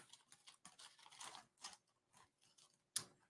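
Someone eats a crunchy snack close to a microphone, producing quiet, irregular bursts of crackly chewing with brief pauses and one sharper crunch near the end, with no talking.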